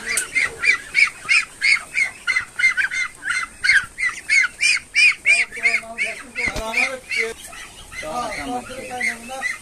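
Loud, repeated honking quacks from a flock of about 250 farm ducks in a rapid series, with a voice briefly speaking underneath near the end.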